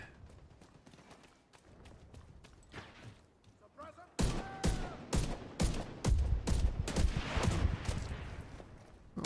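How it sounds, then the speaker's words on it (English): Gunfire from shooting an enemy in The Division 2: quieter scattered shots first, then a loud rapid string of close bursts in the second half. "And now we're just gonna shoot a guy."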